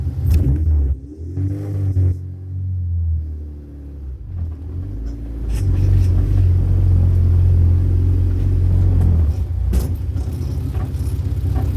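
A 1981 Honda Civic wagon's K24 engine rumbles steadily while driving, its pitch shifting as it speeds up and settles, loud and close throughout.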